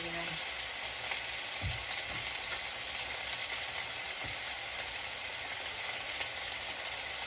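Hamburger steaks fry in an iron skillet with a steady, even sizzle and crackle throughout, punctuated by a few soft low bumps as the pan or meat is moved, no talking.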